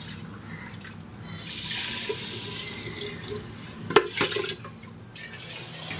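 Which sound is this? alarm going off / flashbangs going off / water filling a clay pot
water filling a clay pot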